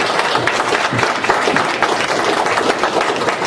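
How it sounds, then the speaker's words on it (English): Audience applause after a speaker thanks a guest at a freedom-themed community event, a dense, steady wash of clapping that stays loud and close for a few seconds. "Give him a round of applause, please"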